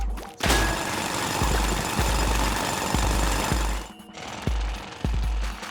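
A drilling effect in the video game Splatoon grinds as a loud continuous rattle punctuated by regular heavy thumps, pausing briefly before resuming with a few more pulses.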